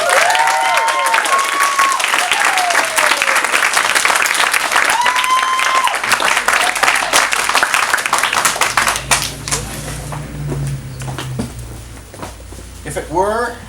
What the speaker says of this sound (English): Give a big round of applause for Doug Nufer.